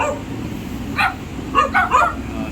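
A dog barks a few times in an outdoor plaza where makeshift huts have been set up, sharp yips in a short cluster partway through over low street background.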